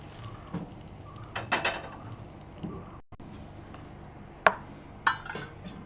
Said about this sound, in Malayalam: നമുക്ക് നമ്മുടെ തൈരിലേക്ക് നമ്മൾ വറുത്ത പാവയ്ക്ക ചേർത്ത് കൊടുക്കാം